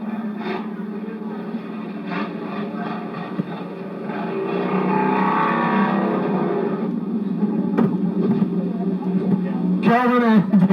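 Race cars roar down the front stretch at Lorain County Speedway during a heat race, engines loud and sustained, swelling as the pack passes, with a track announcer talking over them.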